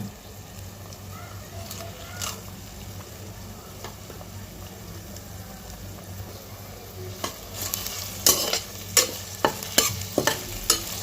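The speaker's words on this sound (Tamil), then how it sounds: "சேர்த்துட்டு இதை அப்படியே நல்லா கிண்டி விடுங்க கொஞ்சம் நேரத்துக்கு வெங்காயம் வந்து நல்லா பொன்னிறமாக வதங்கி வரட்டும்" Onions with cinnamon and cardamom frying in a pan for mutton curry, a steady sizzle at first, then a run of spoon scrapes and clinks against the pan growing louder toward the end.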